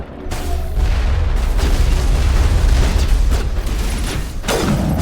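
A rocket blast in Mass Effect combat: a deep, rumbling boom that rolls on for several seconds, loud and sustained, with a few sharper bursts toward the end.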